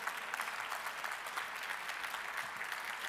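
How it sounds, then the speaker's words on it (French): Sustained applause from a political congress crowd in Brussels, a dense steady clatter of many hands clapping at an even level throughout. "Oui, on peut bien les applaudir."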